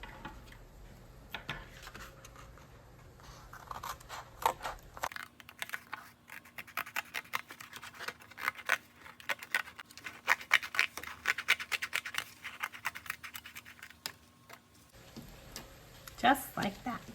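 Scissors cut a circle from a paper plate with a long run of quick, crisp snips close by. A person talks briefly before and after the cutting.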